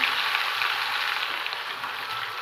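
Ground onion and green chilli paste sizzles in hot oil in a frying pan while a prawn malai curry is cooked, a steady close, bright frying hiss with no pauses.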